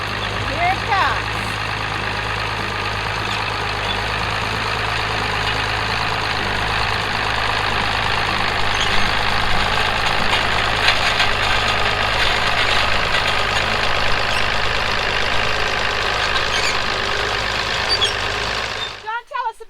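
An antique International threshing machine arriving on a farm, its engine running steadily and fairly loud throughout, with a low idling drone and some clatter before it cuts off at the end.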